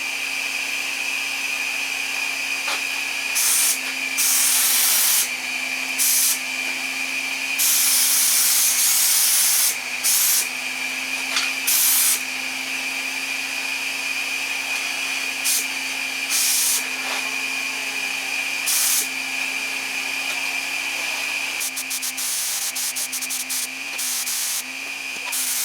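A Fuji Q5 Platinum HVLP spray gun sprays car paint in a steady hiss under a constant turbine whine, with repeated short bursts as the trigger is pulled and released.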